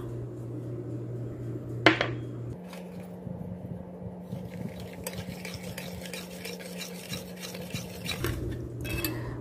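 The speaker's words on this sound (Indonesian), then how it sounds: "Nah, ini dipanaskan sampai mendidih sambil diaduk ya." Steady stirring in a pot of milk and sugar heating toward a boil, a soft continuous scraping with one sharp clink of utensil against the pot near the start, alone with no voices.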